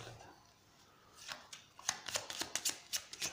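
Playing cards are shuffled by hand, a quiet series of crisp riffling snaps and flicks that grow busier after a near-silent start, recorded close in a quiet room.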